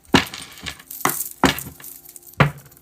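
Thick playing cards being shuffled give a series of sharp, papery riffles and slaps, about five distinct bursts spaced irregularly, close and fairly loud with no talking.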